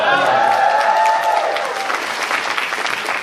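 Audience at a fan convention panel applauds loudly and steadily, a dense wash of clapping from a large crowd that fills the whole moment without speech.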